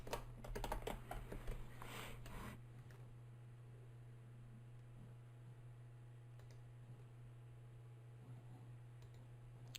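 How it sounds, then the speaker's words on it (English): Typing on a computer keyboard to add student names, a burst of busy, close clicking keystrokes in the first few seconds, then only sparse faint taps over a steady low hum. "You just start typing and adding them."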